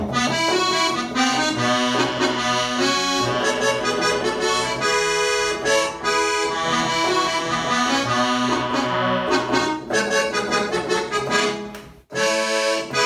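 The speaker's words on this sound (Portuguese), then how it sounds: "E por último, o som do acordeão que a gente conhece," Keyboard accordion voice plays a dense, reedy melody with sustained chords, continuous and loud, pausing briefly near the end.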